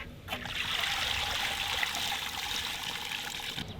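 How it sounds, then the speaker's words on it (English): Water heating toward a boil in a container over fire, used for cleaning beehive frames outdoors: a steady, bubbling, trickling hiss that holds throughout, with no talking. "I think our water's starting to boil here."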